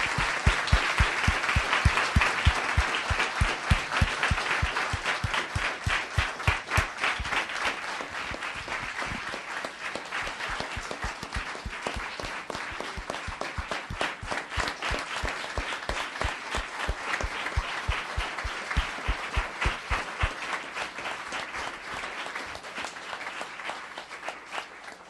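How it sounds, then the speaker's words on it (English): A town council meeting audience gives the mayor sustained applause, a dense wash of many hands clapping that carries on steadily before slowly tapering off. "One more round of applause"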